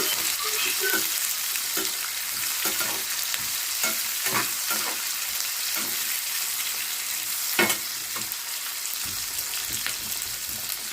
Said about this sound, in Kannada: ಜೀರಿಗೆನೇ, ಕಾಳು ಮೆಣಸು ಸ್ವಲ್ಪ ಚೆನ್ನಾಗಿ ಫ್ರೈ ಮಾಡ್ಕೊಳ್ಳಿ.